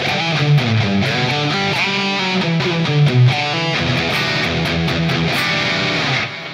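A saturated electric guitar lead tone shaped with PolyChrome DSP plays a sustained, distorted melodic line with thick harmonics, loud and continuous before cutting off near the end.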